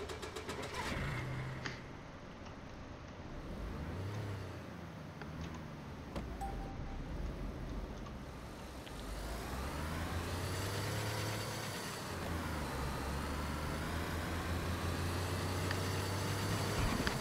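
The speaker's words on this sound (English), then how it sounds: "The car is not too loud." Vehicle engine in the survival game DayZ on the Namalsk map, a steady low drone with rising revs as the car accelerates, moderately loud and continuous with no talk over it.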